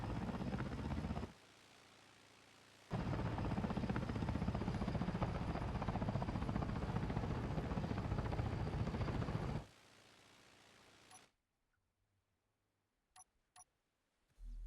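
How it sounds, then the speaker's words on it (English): A helicopter lands in the war game Ares at War, its steady rotor and engine drone holding loud for several seconds, then cutting off into near silence broken by a few brief clicks. "The chopper has landed."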